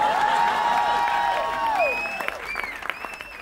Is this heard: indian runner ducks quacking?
no